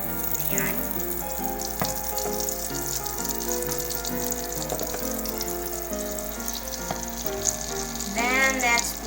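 Butter sizzles in a pan on high heat: a steady, close crackling hiss that holds throughout, with occasional clinks of utensils and no talk.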